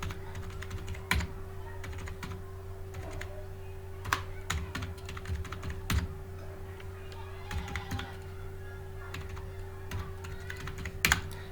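Keys clack on a computer keyboard while dates are entered into an Excel spreadsheet, an irregular run of close, crisp taps over a steady low hum, with a few louder strikes.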